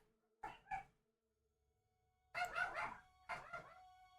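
A dog lets out two short howl-like cries, then two longer, louder, wavering howls after a pause, close and clear in an otherwise quiet room.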